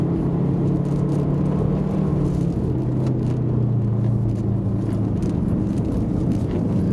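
A Subaru WRX rally car races on a smooth ice track during an ice racing heat, its engine a steady, continuous droning rumble with a slowly shifting pitch, heard loud throughout with no talking.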